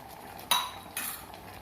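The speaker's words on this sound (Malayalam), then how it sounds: "നല്ലപോലെ ഒന്നുകൂടി ഒന്ന് ഇളക്കിയിട്ടു" A spoon stirring chicken curry in a cooker pot gives two short, bright metallic scrapes and clinks close by, separated by a pause, over a quiet kitchen background.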